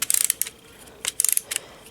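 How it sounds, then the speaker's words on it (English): Film camera advance crank being wound, giving two close bursts of quick ratcheting clicks with a short pause between, crisp and near with no voices. "Wind it up with the crank on this side"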